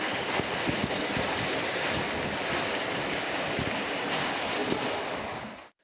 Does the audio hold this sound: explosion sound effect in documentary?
no